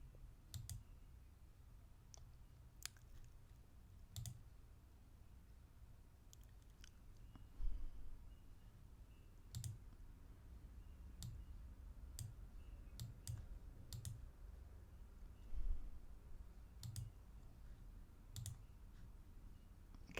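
Computer mouse clicks during website building, sounding as sparse, faint, sharp single clicks at irregular intervals over a quiet room hum, with occasional quick pairs of clicks.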